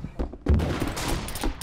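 A brief, busy volley of gunfire from the VR shooter Pavlov, fairly close and dense, breaking out after a short quieter moment and filling most of the moment.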